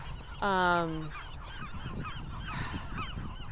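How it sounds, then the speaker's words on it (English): A single loud nasal honking call from a seagull on Anacapa Island, close and lasting under a second, over wind and faint background calls. "We got thousands and thousands of seagulls."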